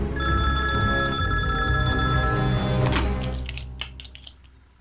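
A telephone rings continuously with a bright electronic tone, loud and close, then cuts off abruptly, leaving a few faint clicks.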